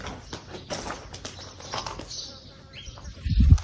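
A quick flutter of wings as birds take flight, mixed with faint chirps, ending in a low thump.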